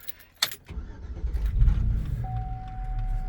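A Chevy Suburban, just repaired for an ignition switch fault and relearning its idle, starts with a sharp click, then settles into a low, steady engine rumble heard up close, with a thin whine running over it.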